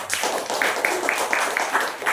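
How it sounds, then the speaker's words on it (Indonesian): Audience applause at a Christmas sermon contest winners' announcement in a Pontianak detention centre church, steady group clapping in a continuous rhythmic patter throughout, fairly close and even in loudness. "tepuk tangan untuk kita semua"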